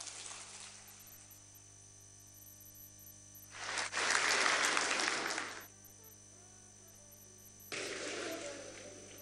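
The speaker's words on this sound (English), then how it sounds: "please keep clapping for His Excellency, the Vice President of the Federal Republic of Nigeria, Professor Yemi Osinbajo, SAN-GCON" Applause for Nigeria's Vice President Yemi Osinbajo at a PEBEC event, heard as two separate bursts of crowd clapping over steady mains hum, the first longer and louder, the second starting near the end.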